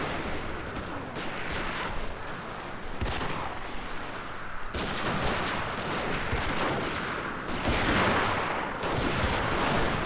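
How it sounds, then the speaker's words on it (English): Dense musket and rifle gunfire in a Shogun 2 battle as troops are shot down, a continuous loud crackle of overlapping shots with sharp volleys bursting out repeatedly over a steady roar of battle noise. "give you a close-up on their troops getting shot to crap"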